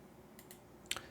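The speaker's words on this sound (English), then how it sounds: "So typing that command in" A command is typed on a computer keyboard: a few quiet scattered key taps, then a sharper cluster of clicks near the end, faint and alone.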